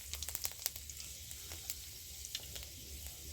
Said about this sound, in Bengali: ওই তেলের মধ্যে আমি শুকনো লঙ্কা আর 5 ফোড়ন দিয়ে দিচ্ছি